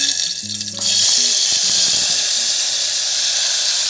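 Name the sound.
cumin seeds and kachri frying in a pan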